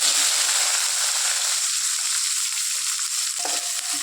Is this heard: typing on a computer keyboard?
no